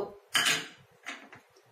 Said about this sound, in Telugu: పొయ్యి మీద గిన్నె పెట్టుకుందాం